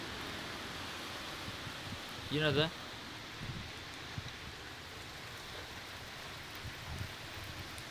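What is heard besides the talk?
summer rain falling in Germany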